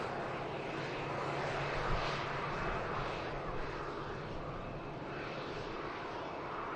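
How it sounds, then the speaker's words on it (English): An airliner departing from runway 23 left at Manchester Airport gives a broad, steady engine roar from a distance, swelling slightly partway through and holding without break. "That's the next aircraft to depart from 2-3 left."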